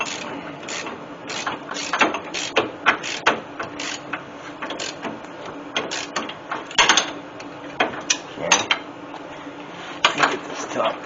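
A ratchet snugs up the rear shackle bolts on a 1997 Ford Explorer, making rapid bursts of close metallic clicks in an uneven rhythm, with some speech mixed in.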